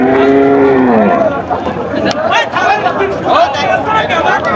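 A cow moos nearby at the start at a cattle market, followed by people talking and background crowd chatter.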